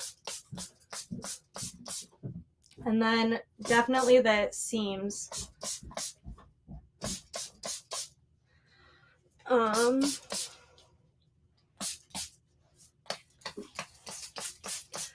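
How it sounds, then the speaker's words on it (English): Quick hissing bursts from a spray bottle, spritzed repeatedly in short pumps, with a person talking in between. "So just spraying the edges and the top."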